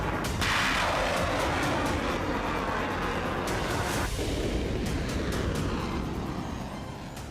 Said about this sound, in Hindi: पाकिस्तान ने ईरानी जमीन पर कुछ इस तरह से विस्फोट किया।